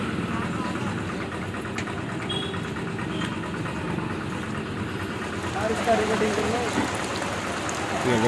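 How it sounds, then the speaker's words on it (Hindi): Heavy rain with gusting wind at a riverside temple town, a steady broad wash of downpour that swells louder toward the end, with an engine rumbling underneath and people talking. "ये देखिए क्या जोरदार बारिश हो रही है, हवा चल रही है, बारिश हो रही है।"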